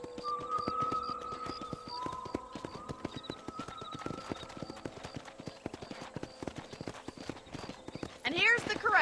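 Steady clip-clop of horse hooves in Red Dead Redemption plods along with a rhythmic beat at a ranch corral, while game music tones and a brief whinny sound near the end.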